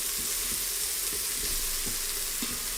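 Mushrooms and garlic sautéing in a pan give a steady, close sizzle with soft crackles and occasional stirring scrapes, without voices.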